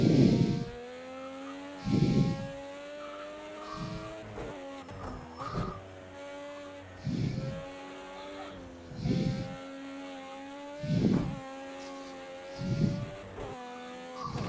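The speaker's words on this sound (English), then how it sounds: "That's where the engine notes are coming from." Race car engines in a racing video game, their notes rising and falling as cars pass in repeated loud swells roughly every two seconds over a steady background drone, with no talking.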